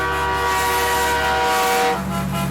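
A loud, sustained multi-tone train horn fitted to a truck blares continuously for over two seconds, close and dominant, with a heavy low rumble underneath before it briefly eases off.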